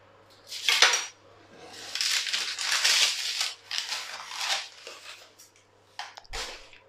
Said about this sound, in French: on va couper les pommes et on va préparer notre crème